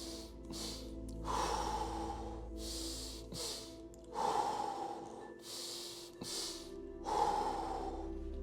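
Three rounds of pumped breathing during a lung-filling exercise, each a series of sharp, close nasal snorts and gasps topping up already full lungs, separated by quieter pauses and soft exhales.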